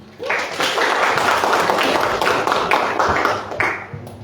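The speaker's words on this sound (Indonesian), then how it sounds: "Oke, tepuk tangan." Classroom applause from a group of students in a law course session, a dense sustained patter of many hands clapping at close range for about four seconds before tapering off.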